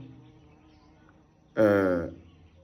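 A wasp on a terrace in the morning gives a short, loud buzz up close lasting about half a second, rising over quiet background hum.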